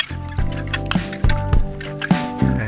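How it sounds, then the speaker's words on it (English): Fried potatoes and fresh curry leaves being stirred into a vegetarian Chennai-style masala curry gravy in a pan: repeated wet squishing and sloshing strokes, close and fairly loud, with no one talking. "it's time to add the fried potatoes and give it a stir, and also some curry leaves, fresh curry leaves, and also give it a stir."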